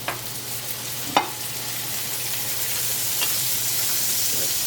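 About two tablespoons of butter melt in a warm pan with a soft, steady sizzle, punctuated by a few faint clicks or taps of utensil against the pan.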